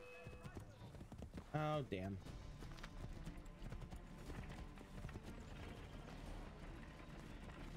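A horse gallops in the remastered Assassin's Creed III video game, its hoofbeats clip-clopping steadily and a brief neigh rising early on, all set in a busy game mix while a player's voice talks over it.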